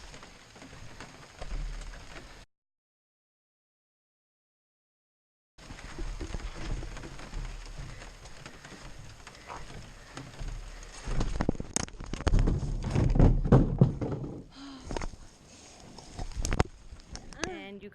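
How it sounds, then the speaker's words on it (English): Rain patters steadily on an overturned canoe held overhead on a forest portage, a close, hissing wash that cuts out briefly and then returns, building with louder knocks and shuffling toward the end. "It's kind of raining, but it's not too bad because I'm under the canoe"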